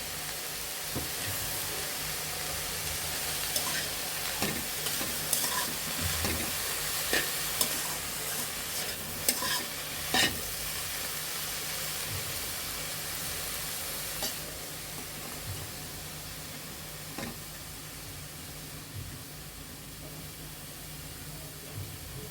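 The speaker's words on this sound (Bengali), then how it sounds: "এখন আমরা শাকগুলো একটু ভালোভাবে ভেজে নিতে হবে" Bottle gourd leaves fry in a pan with a steady, moderately quiet sizzle and hiss, broken by occasional sharp clicks and scrapes of a utensil against the pan. No one speaks.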